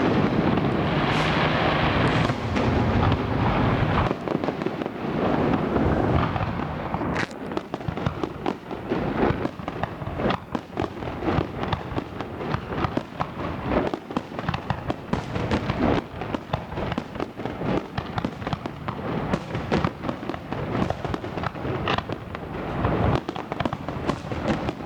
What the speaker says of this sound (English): It was fireworks.